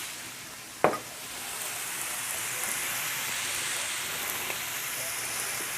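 Pork sirloin steaks simmer in a pan with Campbell's soup forming a gravy, giving a steady, close, even sizzle and bubbling hiss after one sharp knock near the start.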